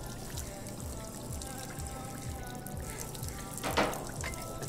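Water pours and trickles into a sink in the Job Simulator video game, a continuous splashing flow with a louder gush near the end, faint and without talk over it.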